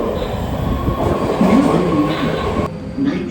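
An Amtrak passenger train rumbles steadily along the rails from San Francisco toward Los Angeles, with a low continuous roar, faint wheel squeal and rattling from the carriages, heard from inside.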